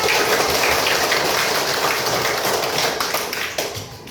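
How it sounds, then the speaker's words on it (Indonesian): A whole class of students claps hands together in dense, continuous applause, a steady crackling wash that fades slightly at the end. "Oke, tepuk tangan kita semua."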